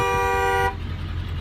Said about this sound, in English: I'm going to honk the horn.